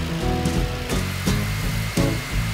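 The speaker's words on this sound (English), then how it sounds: "And then using a jigsaw, I cut out the inside of it." A jigsaw cuts through MDF, giving a steady, loud buzzing saw drone with brief pauses and restarts, close up and with no talk.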